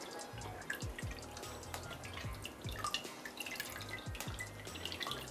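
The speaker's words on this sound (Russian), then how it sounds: "И вот так вот выжимаем всю лишнюю жидкость" Whey drips and trickles from a squeezed ball of fresh homemade cheese curd, a steady run of soft wet drops and splashes with a low background rumble, close up and fairly quiet, with no one speaking.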